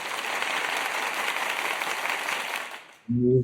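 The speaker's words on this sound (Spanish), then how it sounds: "Vamos a recibir a mi compañera con un fuerte aplauso" An audience applauds in a steady wash of dense clapping for about three seconds as a guest is welcomed to a security and criminology talk, then fades and gives way to a brief voice.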